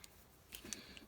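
Scissors snip through the loose tails of washi tape on a fall-themed Halloween fabric craft, giving a few quiet, crisp clicks close by with no talking.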